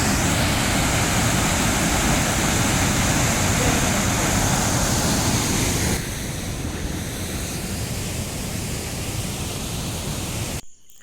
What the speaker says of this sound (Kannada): ಇಲ್ಲಿದ್ದು ನೀರು ಬೀಳೋ ಸೌಂಡ್ ಅಂತೂ ತುಂಬ ಜೋರಾಗಿ ಬರ್ತಿದೆ.